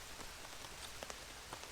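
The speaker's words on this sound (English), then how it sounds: "It must be raining pretty heavily if I can feel it on the tarp" Heavy rain drums steadily on a hammock tarp at a rainy solo camp, a dense, close patter of drops with occasional sharper individual hits.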